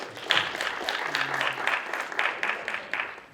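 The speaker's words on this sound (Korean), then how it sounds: "다시 한번 박수를 부탁드리겠습니다" A lecture audience at a forum gives a short burst of applause, fairly faint and slightly distant, the clapping uneven and thinning out within a few seconds.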